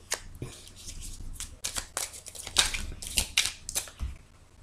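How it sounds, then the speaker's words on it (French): Tarot cards are flipped and laid onto a table in a series of close, crisp papery slaps and shuffles, irregular and fairly quiet. "les cartes qui se sont retournées, donc je les mets sur la table"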